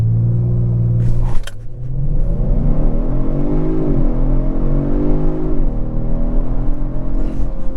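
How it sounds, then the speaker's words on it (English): A 2023 Kia Stinger GT2 AWD launches hard under launch control with stability and traction off: a loud engine roar that climbs steadily in pitch through the revs, close and continuous. "I do want to start out with a launch and see how good this Stinger launches"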